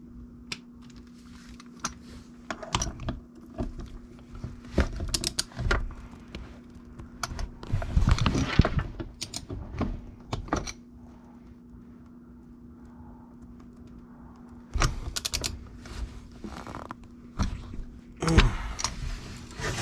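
A bolt on the front differential of a 2005 Kawasaki Brute Force 650 is torqued down with a 17 mm socket. Irregular sharp clicks and ratcheting taps come in clusters with quiet gaps, close by, with faint handling knocks between them.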